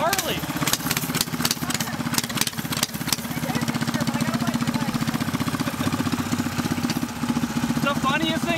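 A car engine with a new fuel filter runs at a steady, loud, lumpy idle with a Harley-like throb, continuous and close, with a few sharp ticks and knocks over it and voices faintly in the background.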